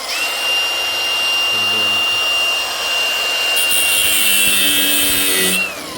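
Electric drill fitted with a bigger bit boring a hole in a Mitsubishi Magna street stock car part, a loud, sustained high-pitched whine that runs steadily for several seconds before spinning down, with no talk over it.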